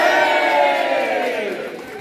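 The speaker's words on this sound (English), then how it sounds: "let's have one big cheer for the Ospreys that were out there tonight" A packed rugby crowd at an Ospreys event lets out one big, loud cheer of whoops and shouts, rising at once and slowly tailing off over about two seconds.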